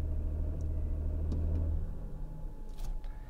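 A 2018 Audi A7 55 TFSI quattro in Dynamic mode held near 1500 rpm while stationary, a low steady engine rumble that eases and settles as the throttle is released, with faint clicks.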